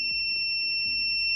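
A homemade water level alarm buzzer sounds a steady, piercing electronic tone, continuous and fairly loud throughout with faint background clatter beneath.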